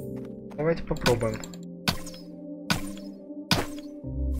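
Several sharp, punchy crossbow thwacks spaced about a second apart ring out over a humming soundtrack in the video game Mana Spark.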